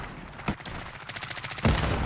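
Gold Uzi submachine gun firing in Modern Warfare, with a sharp shot, then a quick rattling burst of rapid rounds, and a heavier report near the end, all fairly close and with no talk.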